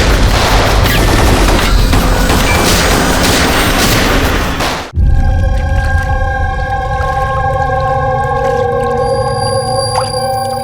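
Gunfire goes off in a TV crime drama scene, a dense, loud burst of shots followed by a sharp cut into a droning, ringing musical score.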